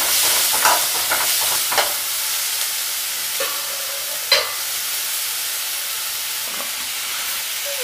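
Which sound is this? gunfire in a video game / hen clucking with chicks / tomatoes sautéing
tomatoes sautéing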